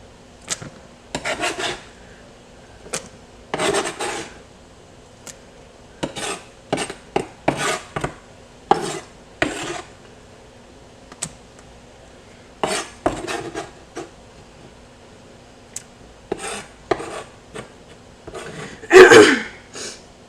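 Chopped vegetables for a pasta salad are scraped and dropped into a bowl in a series of short, close clattering bursts with quiet pauses between them.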